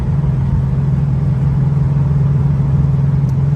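Muscle car with a fresh carburetor cruising at around 55 to 60 mph, heard from inside: a steady, loud low engine drone with a strong constant hum and road roar throughout, with no voices.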